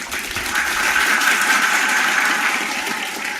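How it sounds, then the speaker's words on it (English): An audience at an evening club meeting claps in a steady, sustained round of applause, dense and even for several seconds, fairly loud with no speech over it. "Let's welcome them with our round of applause"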